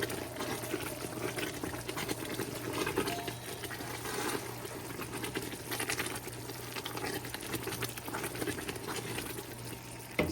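Hot homemade caramel stirred in a pot, a continuous bubbling, sizzling wash of liquid noise with a faint steady hum beneath, moderately loud and unbroken throughout.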